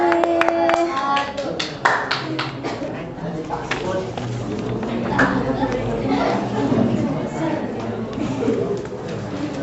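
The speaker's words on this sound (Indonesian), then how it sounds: "Tepuk tangan satu kali lagi." Classroom group applause in a school lesson, a scatter of hand claps at the start giving way to steady clapping mixed with student chatter and voices throughout.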